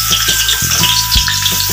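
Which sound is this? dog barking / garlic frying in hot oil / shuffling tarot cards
garlic frying in hot oil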